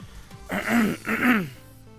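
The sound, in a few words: throat clearing cough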